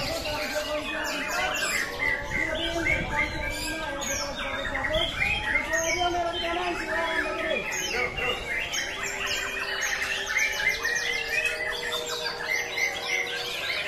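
A white-rumped shama, or murai batu, sings at a bird contest, pouring out loud, rapid, varied whistles and chattering phrases nonstop, with crowd voices faintly underneath.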